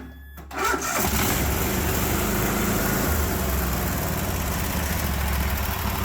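A Cub Cadet 1050 Hydro lawn tractor engine cranks briefly and catches on full choke, then settles into a loud, steady running roar that continues close by without talk.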